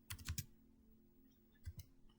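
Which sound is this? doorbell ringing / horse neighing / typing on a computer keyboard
typing on a computer keyboard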